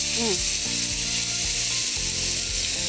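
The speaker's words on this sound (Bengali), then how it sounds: "একটু নাড়িয়ে নিই" Fish curry with tomato paste and mint being stirred in a frying pan, a continuous sizzle with a few scraping spoon strokes against the pan, close and loud.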